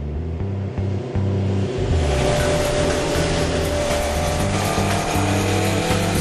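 A 1969 Honda CB750 K0 four-cylinder motorcycle engine runs loud and close, a steady dense roar that climbs in pitch after a brief dip, revving continuously with no voices.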